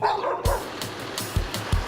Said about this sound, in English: a dirty old dog, barking at me